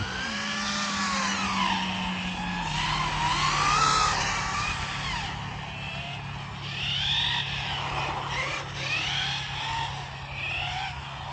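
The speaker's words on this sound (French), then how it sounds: "Ah, j'ai entendu la voiture." A Hobao 10TT radio-controlled car's engine drones at a distance in a parking lot while tires squeal in rising and falling sweeps, as if skidding through turns.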